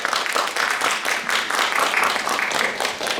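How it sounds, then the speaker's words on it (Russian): Audience applause for a third-place winner at an awards ceremony for a poetry recitation contest, a dense, steady clapping from a hall full of people lasting throughout. "Ваши аплодисменты"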